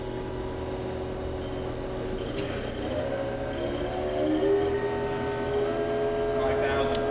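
Haas horizontal machining center spindle spinning at 2,500 RPM, a steady tonal hum and whine that holds evenly throughout, with a few faint mechanical ticks and no clear talk.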